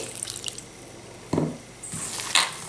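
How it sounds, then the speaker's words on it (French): Orange blossom water poured into almond dough for date cakes, a few short wet drips and splashes spread across a couple of seconds, close by and fairly soft, with no talking. "Et je vais la parfumer avec l'eau de fleur d'oranger."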